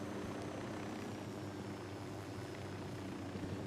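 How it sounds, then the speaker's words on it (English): A video game helicopter drones steadily, a low continuous rotor and engine rumble that stays faint and unchanging throughout. "So we want to take out this helicopter."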